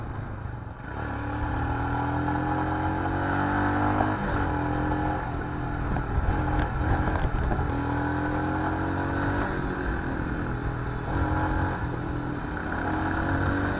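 A Royal Enfield Himalayan motorcycle being ridden in Ladakh, its engine droning steadily and loud throughout with shifting revs and wind rush, close up and without talk.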